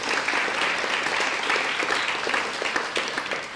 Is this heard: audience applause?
yes